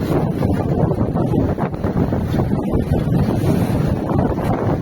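Strong wind buffets the microphone in a steady, roaring rush, with rough sea waves and water sloshing underneath throughout, aboard a sailboat at sea between Kos and Astypalea; no one speaks.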